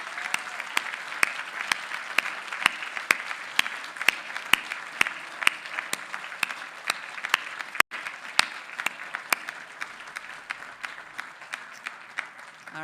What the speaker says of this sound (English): show your gratitude by giving your supporters under the tent and online a big round of applause